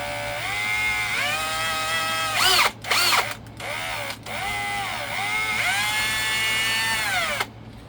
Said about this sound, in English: we're gonna drill a hole in the back to hold the back of this board together